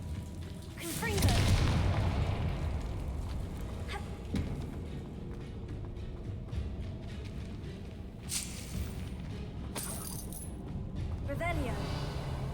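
Confringo explosive spell going off in Hogwarts Legacy, a loud booming blast near the start followed by crackling impacts and scattered game effects under steady background noise.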